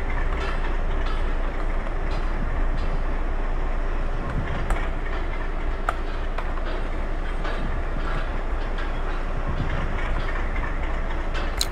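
A WDM3A diesel locomotive shunting coaches in a train simulator gives a steady, loud rumble of rolling stock, with rail clatter and occasional sharp clicks over a constant engine drone.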